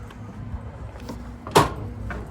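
A single short snap of a plastic vent flap closing on a travel trailer, near and crisp, amid light handling noises.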